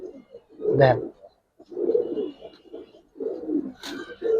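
Silver Giribaz pigeons give three separate low, throaty coos, each lasting about a second with short pauses between, near and moderately loud.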